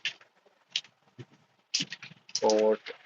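Someone types on a computer keyboard, entering text into a browser; short bursts of light key clicks come in scattered clusters, with a person talking between them.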